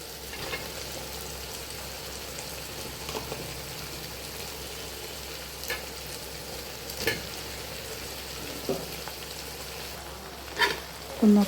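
Cooked rice stir-fried in a pan for vegetable fried rice, with a constant low sizzle and periodic scraping knocks of a spatula against the pan.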